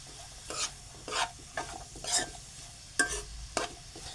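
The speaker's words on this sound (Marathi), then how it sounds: "कांदा चांगला परतून घेऊया आपण तांबूस होईपर्यंत." Chopped onion is sautéed in a pan until golden, heard as a soft low sizzle broken by about six distinct scraping stir strokes spaced roughly half a second apart, quiet and close, with no speech.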